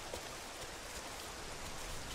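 Rain falls in the dinosaur survival video game The Isle as a steady, faint hiss of even noise, unbroken for a couple of seconds with no voices.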